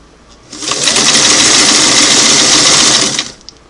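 A Singer Model 338 sewing machine runs a wide single-needle zigzag stitch through eight layers of fabric, a loud close steady whirring burst of about two and a half seconds that starts and stops abruptly.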